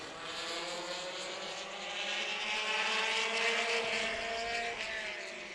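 Pavement midget race cars at Meridian Speedway roar through a turn, their engines a steady, loud, high-pitched drone that swells slightly as the pack passes.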